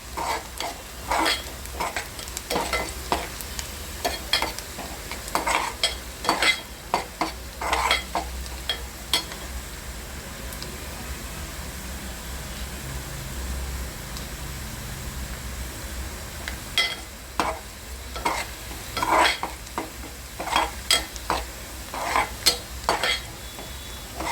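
Onions frying in a pan for a potato chili curry, with steady sizzling under repeated scraping and clinking strokes of a spoon stirring against the metal, continuing without pause and no talking.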